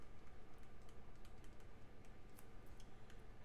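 Calculator keys pressed in quick succession during a math lesson, a steady run of small sharp clicks with short pauses, close and faint with no talking.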